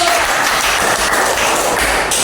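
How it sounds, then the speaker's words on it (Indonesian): Pupils in a classroom lesson on human respiratory organs clap for a classmate's answer, a loud, dense wash of many hands clapping at once, steady and unbroken for a couple of seconds. "Bagus, tepuk tangan"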